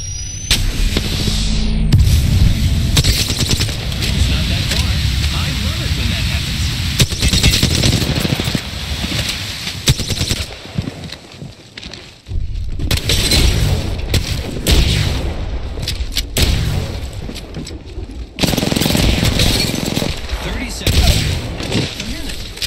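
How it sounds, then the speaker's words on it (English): Dense, sustained gunfire and booming blasts from enemies in an Apex Legends match, bursts rolling almost continuously with brief lulls, loud and close, with speech partly heard beneath. "Enemies are shooting at me."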